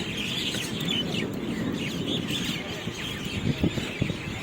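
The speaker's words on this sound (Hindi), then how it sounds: "चिड़ियों की चहचहाट, पक्षियों का कलरव" Birds chirp and cluck outdoors near Amer, heard by a cyclist on the way; a steady, busy mix of small calls with a few louder notes near the end, all under a constant background hiss.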